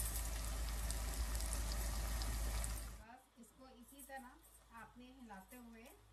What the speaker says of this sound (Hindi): इसको 1 से 2 मिनट तक हम अच्छा सा ऐसे ही हल्का हल्का हिला के भून लेते हैं